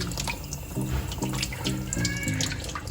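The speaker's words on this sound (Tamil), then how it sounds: "இதை நம்ம வீட்டில் வந்து லைட்டாக அப்படி தேய்ச்சி கழுவுனா போதும்" Tap water runs steadily into a kitchen sink while a fresh crab is rinsed and lightly scrubbed at home, a continuous close splashing stream with no talk.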